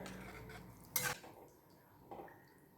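Ladle or spoon stirring a Sankara fish curry mixture of tamarind, chilli powder and tomato in a pan, a quiet scraping swirl with one sharp metallic clank near the middle and a softer knock toward the end.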